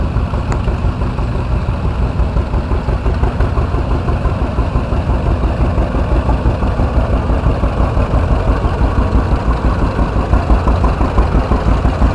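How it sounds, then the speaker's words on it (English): A 1971 International 565 tractor engine idling close by at a hometown show, a loud steady low rumble with even rapid firing pulses and no voices. "Billy Doyle on a 1971 International 565"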